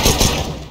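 AWP sniper rifle shot in CS:GO on Dust2, one sharp loud crack followed by a brief rumbling tail, close and alone.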